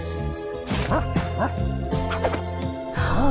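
A puppy character in the video game Reverse 1999 barks and yips in short repeated bursts over a tonal game music bed, loud and close.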